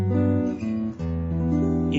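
Jazz guitar playing a 1-6-2-5 chord progression in G, with ringing sustained chords shifting every half second or so, close and clear.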